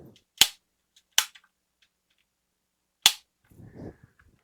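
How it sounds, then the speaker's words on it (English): A 1980s Radio Shack Electronic Shooting Gallery light gun toy fires three sharp, loud clicking shots with uneven gaps, followed by a faint electronic tone. "let me shoot it a handful of times"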